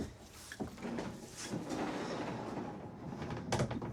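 A solid pocket door in a 2026 Forest River Alpha Wolf 21RB-L travel trailer slides along its track with a rolling rumble and a couple of soft knocks, ending in a light thud as it stops.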